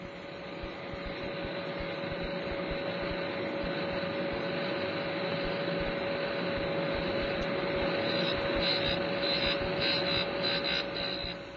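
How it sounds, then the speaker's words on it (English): A cutter grinder grinding down a lathe cutting tool, a steady close whine with a constant ringing tone over broadband hiss that holds unbroken throughout. "All we're doing here is grinding away the part of the tool which was rubbing on the work."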